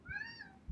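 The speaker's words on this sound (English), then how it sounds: "if you can hear that meow in the background" A pet cat gives a single short meow, faint and somewhat distant, with a rising-falling tone and little else around it.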